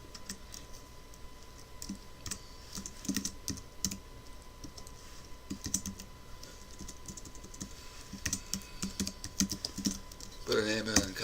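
A customer name being typed on a Mac computer keyboard: close, soft keystrokes in quick uneven bursts with short pauses, over a faint steady hum.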